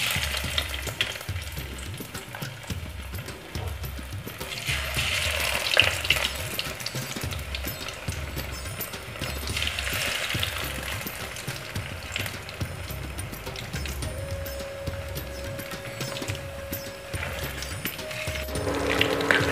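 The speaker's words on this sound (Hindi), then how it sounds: "तेल गर्म हो गया है, फिश ऐड करते हैं। तेल में फिश ऐड करते हैं।" Marinated spicy masala fish fries in hot oil in a kadhai over medium heat, giving a long, steady sizzle with crackling bursts up close and a faint tonal hum near the end, with no speech.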